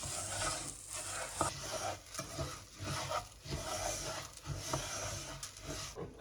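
Stirring lentil dahl in a pot, with scraping, swishing strokes and a soft sizzle underneath, repeating at an uneven pace.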